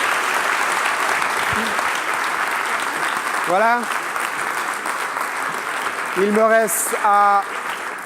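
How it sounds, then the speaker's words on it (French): Conference audience applauding after a discussion in a lecture hall on the dark side of the Universe, a dense continuous clapping throughout with someone speaking briefly over it near the end. "Ça mérite vraiment des applaudissements."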